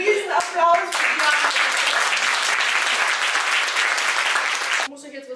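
A crowd bursts into loud, sustained applause that cuts off abruptly; a voice speaks briefly before and after the clapping.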